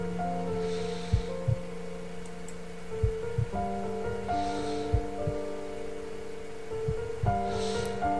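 A slow heartbeat in the video game To The Moon, heard as soft paired low thumps recurring every few seconds under a sustained musical hum and drone, with no talking.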